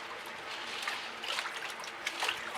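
Water runs and trickles as a long chain is rinsed off during an acrylic paint-pouring session, a steady close splashing stream with small spattery surges and no talking.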